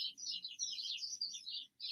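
A bird chirps in rapid, continuous high twittering for nearly two seconds, fairly close and clear, with only a faint low murmur beneath and no talking.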